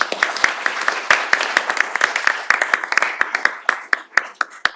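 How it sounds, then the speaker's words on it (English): Applause from a small audience for law panelists at an embryo law and ethics event, steady close clapping with distinct individual claps that thins toward the end. "Big round of applause for them"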